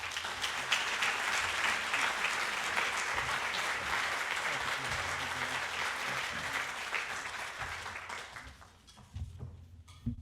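Sustained audience applause greeting Smedes York, a dense wash of clapping from a large crowd that holds steady for about eight seconds before thinning out and fading near the end.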